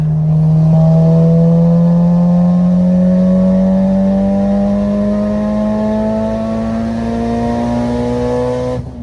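Tuned all-wheel-drive car engine held at high RPM, a loud, steady near roar whose pitch climbs slowly and continuously across the whole stretch, with no talking.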